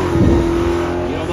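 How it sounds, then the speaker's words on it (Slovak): A loud touring race car picks up speed on a street circuit in Slovakia, its engine note close and steady with a rising drone throughout the short burst. "Miro Majo naberá rýchlosť na svojej 30-ke Touring."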